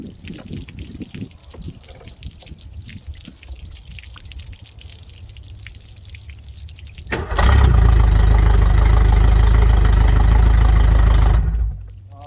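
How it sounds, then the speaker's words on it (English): A boat outboard motor fires up partway through after a quieter stretch of trickling water from a hose, then runs loud and steady for several seconds before cutting off suddenly. "So now it should shoot out of there when we start the motor here."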